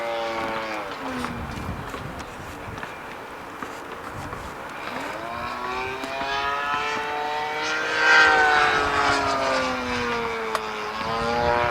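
A model airplane engine, its soft mounts removed, drones continuously with shifting harmonic pitch that rises and sweeps through the clip, steady and fairly close, with no talking.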